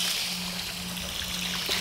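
Steady water pouring into a turtle tank that already holds rinsed gravel, giving a continuous close splashing trickle with a faint hum underneath.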